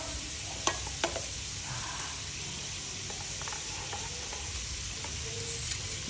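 Noodles with pork are stir-fried in a pan over a charcoal fire, giving a soft, steady sizzle and hiss punctuated by a few light clinks and scrapes of a utensil.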